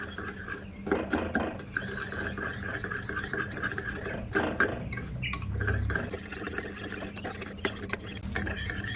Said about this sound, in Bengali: গুড় আর টক দইটা ভালো করে ফেটিয়ে নেবো এবার ভালো করে মিশিয়ে নেব আখের গুড় আর টক দইটা